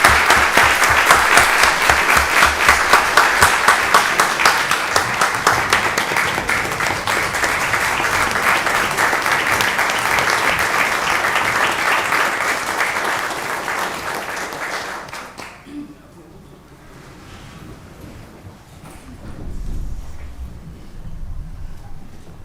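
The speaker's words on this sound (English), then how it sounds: "Join me in giving her a round of applause." A large county board meeting audience claps loudly and continuously for about fifteen seconds, then the applause stops abruptly, leaving quiet room sound with a faint low thump.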